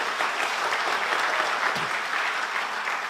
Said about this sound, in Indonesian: Beri tepuk tangan lagi buat Tuhan kita.